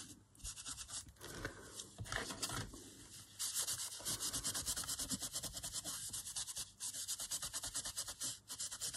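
Crackle paste being rubbed by hand onto a painted cover, a busy continuous scratchy rubbing with rapid back-and-forth strokes, close and fairly loud, no talk.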